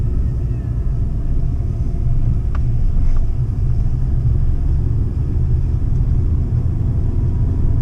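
A manual rental car drives through Greece, its engine and road noise forming a steady, close, low rumble that continues for the whole stretch with no talking.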